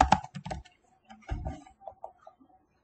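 A computer keyboard being typed on to enter a password while setting up a Google account, heard as a short, close burst of quick key clicks that then trails off into sparser taps.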